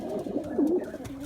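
Racing pigeon cocks in a loft giving a short, soft, low coo amid faint shuffling, close and brief.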